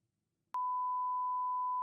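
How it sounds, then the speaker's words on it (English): A single censor bleep sounds alone: a steady, pure electronic tone that lasts about a second and a quarter, preceded by near silence. "This might be a beep"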